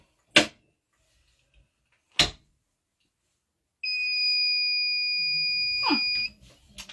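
A heat press timer alarm sounds a steady, high electronic beep lasting about two and a half seconds, preceded by two sharp clicks and followed by brief handling noise.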